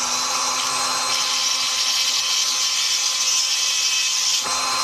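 A fire agate stone is ground against a coarse lapidary wheel, giving a steady, loud, high-pitched whine and grind that holds continuously throughout at close range.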